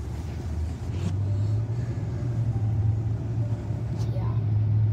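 Heavy road traffic heard from inside a car, a low steady rumble of engines and tires with a sustained drone rising in the middle, fairly quiet and continuous throughout.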